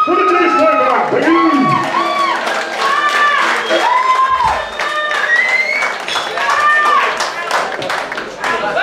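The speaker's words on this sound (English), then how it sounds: "So please grab some applause," An audience applauding and cheering for a band at a live pub gig, with dense clapping under loud whoops and excited voices, continuous throughout.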